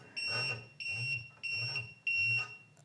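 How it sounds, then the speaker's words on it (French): Four loud, evenly spaced electronic beeps from a liquid level indicator touching water, each a shrill tone with a buzzing undertone, close by and repeating about twice per second. "vous voyez il bip"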